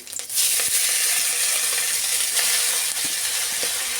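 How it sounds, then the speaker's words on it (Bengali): Nigella seeds and two green chillies drop into hot oil and burst into a sudden, loud, hissing sizzle that then holds steady. A few faint clicks of stirring come through close by, and nobody speaks. "এখন আমি তেল গরম করে কালো জিরা দুটো কাঁচা লঙ্কা ফোড়ন দিই দিচ্ছি"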